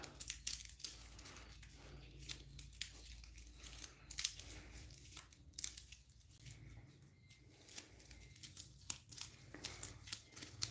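Board game cards are riffled and shuffled in a quick series of crisp snaps and papery rustles, recorded close with no talking.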